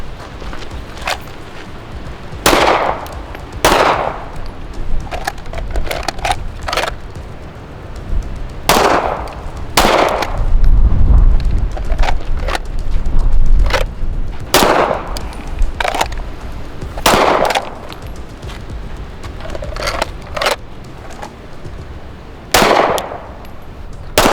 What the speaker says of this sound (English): We're just going to do draw 1, shoot 1.